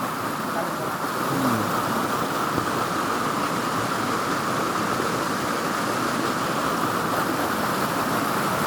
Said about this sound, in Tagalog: Tuloy-tuloy kasi yung ulan, eh.